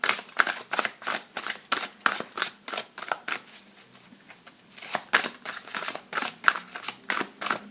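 Tarot cards being shuffled in quick rhythmic riffles, close and crisp, with a brief softer lull in the middle before the shuffling resumes.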